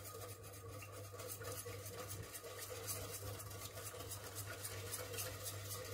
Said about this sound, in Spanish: Y vamos echando la mezcla de las yemas, poco a poco, y vamos removiendo a la vez.